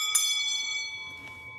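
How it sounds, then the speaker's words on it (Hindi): A small bell rings with a bright, sustained metallic tone, struck once and then again softly, quiet and fairly close. "फिर उसने घंटी बजाई और पूछा,"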